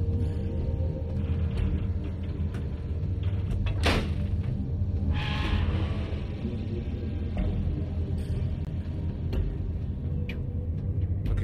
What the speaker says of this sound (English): thank goodness the sound of the door